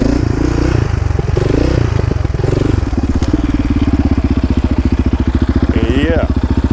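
A quad ATV engine runs in first gear while riding, with a loud, rapidly pulsing exhaust beat and clattering mechanical noise, plus a brief squeak near the end.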